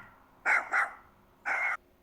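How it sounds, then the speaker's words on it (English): A small dachshund named Chipper barks three times, two quick yaps close together and then a longer single bark, loud and close in an otherwise quiet room. "That's a little skeet barking."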